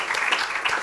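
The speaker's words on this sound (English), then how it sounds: "Can we have a round of applause for both our speakers?" Conference audience at a policy forum applauding the speakers: a brief, dense burst of many hands clapping together, loud and close, filling the moment without pause.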